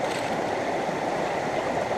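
Stream water flowing steadily through a gold panning sluice outdoors in the UK, a continuous close rushing and gurgling wash with no pauses.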